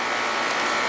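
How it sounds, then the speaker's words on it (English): A steady, close hiss of an aerosol can of Plasti Dip releasing a continuous burst. "first one you want to spray it out a little bit"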